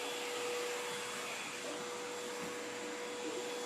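A household vacuum cleaner runs steadily throughout, a constant whine and rushing airflow with a sharp tonal hum and no break in the noise.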